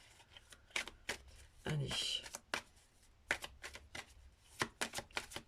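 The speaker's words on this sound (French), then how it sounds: "Tirage à 3 cartes, s'il vous plaît." A deck of tarot cards shuffled close by in quick riffles and taps, a run of crisp bursts spread across the clip, with someone speaking briefly in French in the middle.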